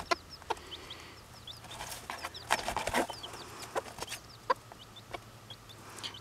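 A mother hen clucks softly to her chicks while they peep in thin high chirps, with scratchy movement noises in a quiet overcast yard, all fairly faint and without talk.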